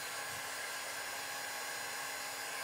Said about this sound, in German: jetzt föhne ich das eben nochmal, ne? Trocken, auch den Kleber, den ich eben gerade drauf gemacht habe